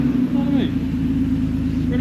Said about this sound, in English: So do you want to start it up, Kears?